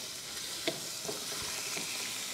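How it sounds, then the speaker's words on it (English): Dove meat browning in duck fat in a pan sizzles with a steady close crackle, with a few sharper pops and spits breaking through. "You listen to the sizzle."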